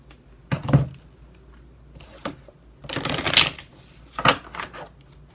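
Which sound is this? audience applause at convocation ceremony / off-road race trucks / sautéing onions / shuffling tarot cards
shuffling tarot cards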